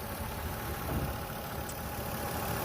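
A Lexus GS 300 with a VVTi 2JZ straight-six idles under the open hood, a steady low even hum close by with no talk over it.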